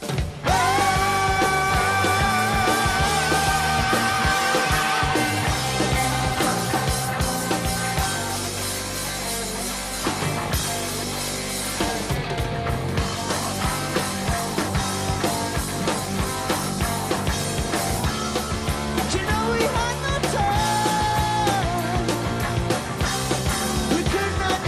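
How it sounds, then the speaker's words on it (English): A band plays live in concert in Japan, with a big organ filling the stereo field beside electric guitar, bass and drums. The full band plays loud and dense without a break, with no talking. "it sounds like this really big organ that's filling up the stereo space"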